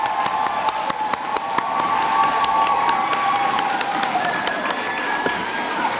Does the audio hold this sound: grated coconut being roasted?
no